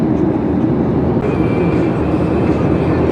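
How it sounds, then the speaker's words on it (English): A heavy freight train rolls past out of Barstow, a loud, dense rumble and clatter of wagons that stays steady and close throughout, with no talk. "Here we see another train in the distance. Out of Barstow."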